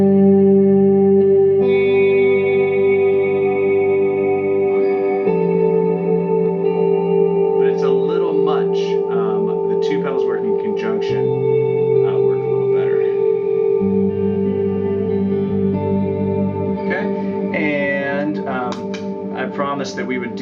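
Ambient electric guitar drenched in an extreme wet effect setting, sustained chords washing into long reverb and echo tails while shimmering melodic notes float over the top, loud and continuous.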